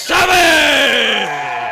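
A wrestling crowd roars and cheers loudly for the Metro Champion Jay Savage's entrance at a Saturday Slam championship event, a sustained swell of yells and whoops that holds strong before easing slightly.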